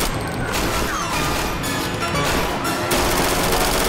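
Dense gunfire in the Roblox Frontline video game set during the WW2 D-Day invasion, with continuous loud automatic bursts, crashes and explosions filling the whole stretch without a break.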